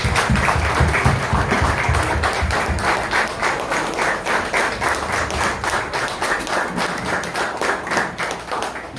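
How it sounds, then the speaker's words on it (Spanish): An audience in a municipal council chamber applauds during a solemn anniversary session, loud, close clapping that falls into a fairly regular rhythm and holds steady for several seconds. "vamos a darle un aplauso a Jesús de Nazaret."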